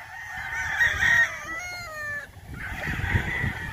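Gamecock stags crow on a farm, with one clear, loud crow rising and falling near the middle over clucking and other fowl sounds around it.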